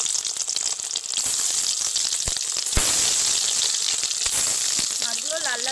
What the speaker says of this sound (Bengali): কড়াইতে সাদা তেল দিয়ে দেবো মাছগুলো ভাজার জন্য